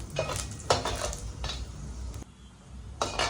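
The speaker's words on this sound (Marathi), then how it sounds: "खडा मसाले चांगले परतून घेऊया आपण" Whole spices tossed in hot oil for a mutton masala, heard as a low sizzle broken by several clattering strokes of a utensil against the pot.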